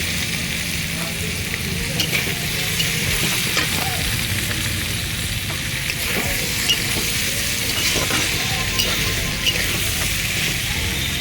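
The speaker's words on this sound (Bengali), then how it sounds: "আলুগুলো দিয়ে ডিমটা দিয়ে ভেজে নিই" Potatoes, mixed vegetables and egg sizzle steadily in a hot pan, a constant crackling hiss broken by occasional scrapes and taps of stirring.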